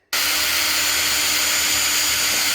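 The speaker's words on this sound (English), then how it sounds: "I'm going to drill" A power drill bores a small hole in the center of a Makita router base plate, a loud steady whine that starts abruptly and holds without pause.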